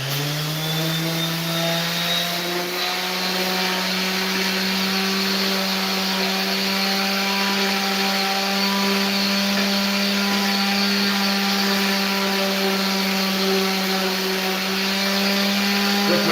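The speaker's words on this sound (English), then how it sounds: "With my crappy sander that I hate." A power sander grinds steadily over wood, its motor holding a loud, close, continuous whine for the whole stretch without letting up.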